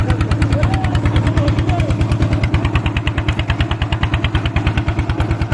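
A trawler's engine runs on a boat heading toward the Sundarbans, throbbing in a steady, fast, even knock that stays loud and close throughout, with no other sounds breaking through.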